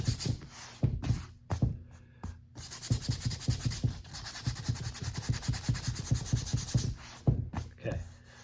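A hand sweeps back and forth over a smooth surface patched with air-dry filler and sanded level, making soft, close rubbing strokes in a quick rhythm. A voice is heard briefly at the start and end.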